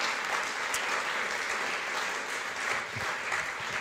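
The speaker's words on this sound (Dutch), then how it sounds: "Dames en heren, geeft u mijn panel een warm applaus." A studio audience at a Dutch political talk show applauds a panel with warm, continuous clapping at a steady level, dense and unbroken, with no voices over it.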